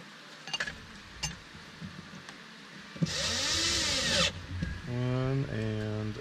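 A power drill drives screws into a panel, whirring close for about a second, then buzzing again in a short pulsing run near the end, with quiet handling sounds and a little talk before.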